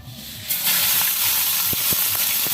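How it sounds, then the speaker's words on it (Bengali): Five-spice (panch phoron), bay leaf, dried red chilli and green chilli sizzle in hot oil for a Rajbanshi-style khichuri, a steady close hiss that swells after the first half-second, with faint clinks from a spoon against the pan. "তেলটা গরম হয়ে গেছে, এখন দিয়ে দেবো পাঁচফোড়ন, তেজপাতা, শুকনো লঙ্কা আর কাঁচা লঙ্কা দিয়ে দেবো"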